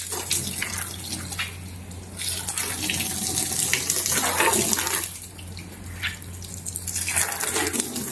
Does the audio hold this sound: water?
yes